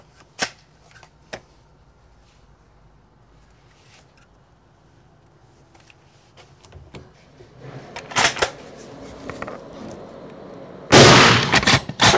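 A Weatherby Vanguard Wilderness Composite .30-06 hunting rifle with an ATEC H2 suppressor and scope, firing Winchester ammunition. Scattered handling clicks and rustles lead into one loud, sharp shot near the end.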